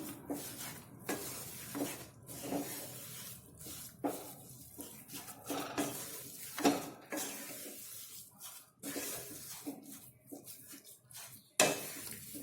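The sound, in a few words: stirring and mixing faral sukhdi mixture in a pan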